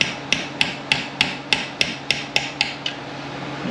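A socket hammered in during a Ford 6R80 transmission rebuild, a run of about ten evenly spaced sharp metallic taps, close and clear, the last few slightly softer, with no talking.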